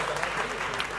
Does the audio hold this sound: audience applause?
yes